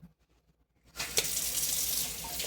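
Tap water suddenly starts running over fresh strawberries in a kitchen sink, a close, steady splashing gush after a second of near silence, continuing without talk.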